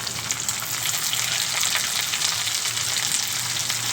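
Sprigs of curry leaves fry in hot oil alongside ginger-garlic paste, giving a loud, steady, close sizzle with no pauses, cooking for a bitter gourd pulusu.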